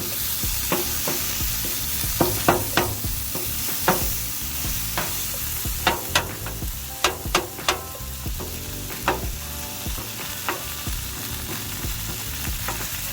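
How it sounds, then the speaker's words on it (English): Ground meat sizzling on a griddle for chopped cheese while a spatula chops through it: a constant loud sizzle punctuated by sharp metallic taps and clacks in irregular bursts, close up, with no talking. "Now you can get up in here and chop that meat up."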